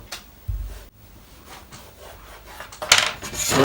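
Scissors cutting straight along the front piece of a blouse fabric, producing scattered crisp snips and soft rubbing scrapes of cloth. A louder cluster of cuts comes toward the end, with no talking.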